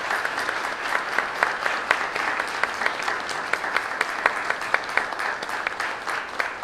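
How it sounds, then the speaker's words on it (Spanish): A congregation at a Sunday church service applauds. Distinct claps stand out from a steady wash of clapping that runs throughout, with no clear talking. "vamos a darle un fuerte aplauso"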